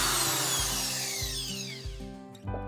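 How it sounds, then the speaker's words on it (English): A power drill driving screws into floor boards, its motor whirring close and loud in repeated pulses as each screw bites and winds down. "just screwing down the last couple boards in there"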